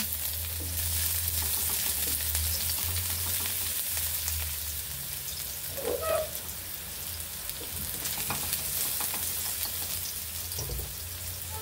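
Garlic sizzles and crackles steadily in a hot pan while cooking Bicol express, a loud continuous hiss with occasional stirring scrapes, close up and without talk.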